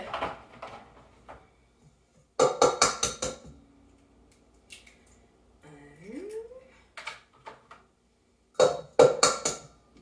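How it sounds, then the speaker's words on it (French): Four eggs being cracked into a bowl and mixed, with bursts of sharp knocks and clinks, a wet slide and squish, and quiet gaps between, close by. "dans un bol, on va mélanger 4 œufs"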